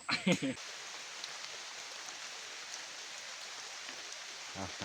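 Light rain falls outdoors as a faint, even patter and hiss, with brief bursts of talking at the start and near the end.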